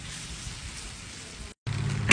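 Steady rain falls continuously, a broad even hiss throughout, briefly cutting out near the end before returning slightly louder with a low rumble.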